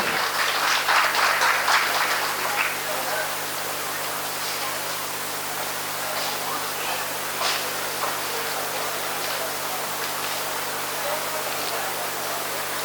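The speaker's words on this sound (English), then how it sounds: "Give him a huge round of applause" A burst of clapping from an audience at a student orientation program rises at the start and fades within a few seconds, leaving a crowd murmur and room noise.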